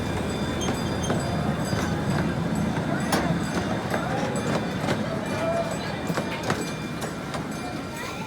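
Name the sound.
gas-powered CP Huntington zoo train locomotive returning to station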